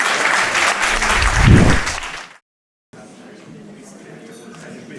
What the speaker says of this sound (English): Another round of applause for our great panelists.